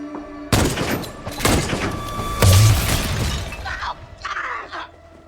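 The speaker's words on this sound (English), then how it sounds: "It's a freaking grenade launcher." A grenade launcher firing in the Fallout TV show, several loud, sharp blasts with shattering debris and booms in quick succession, followed by fainter scattered crashes and background sound.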